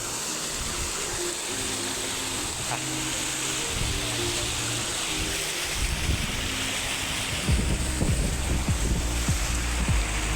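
Steady rushing water fills the scene as a broad, continuous wash of noise, loud and close, with low rumbles and faint voices now and then.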